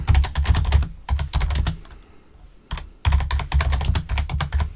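Rapid typing on a computer keyboard, a dense run of clicking keystrokes in bursts with a brief pause in the middle, close and clear with no talk.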